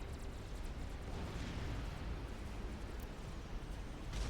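Continuous rumbling artillery barrage in the real-time strategy game Supreme Commander: Forged Alliance, a dense roar of distant blasts and pops rolling steadily throughout with no talk.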